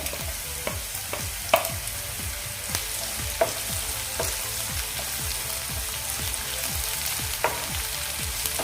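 Chopped tomatoes frying with browned, translucent onions for a Maharashtrian cabbage bhaji, a steady close sizzle broken by regular scraping strokes of a spatula against the pan, with no talking.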